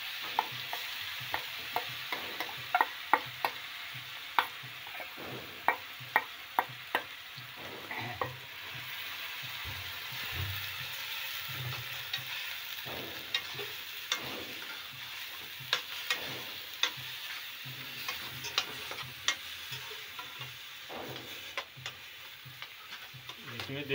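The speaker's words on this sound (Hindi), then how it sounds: "देखिए इसमें गया है गाजर, गया घी में।" Grated carrots fry in ghee for gajar halva, a steady close sizzle running under frequent scraping, clicking strokes of a spoon stirring the pan, with no talk.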